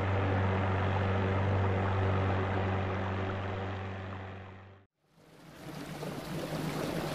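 A speedboat's engine drones with a steady, tonal hum that fades gradually before cutting out abruptly, followed by a softer wash of water and noise.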